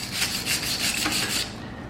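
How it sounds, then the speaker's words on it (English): Paste wax rubbed by hand onto warm forged steel S-hooks gives a steady, close scrubbing rasp in quick repeated strokes for about a second and a half, then trails off. "you can get this paste wax and put it on when it's just a little bit warm"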